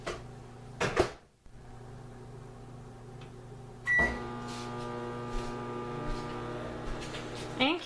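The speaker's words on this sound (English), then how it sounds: "now we're going to put it back in the microwave for just a couple of minutes" A microwave oven hums steadily as it heats pasta sauce for stuffed cheese shells, preceded by a door closing and a beep, with a few soft clicks and knocks nearby.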